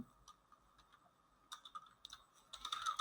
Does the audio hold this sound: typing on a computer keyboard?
yes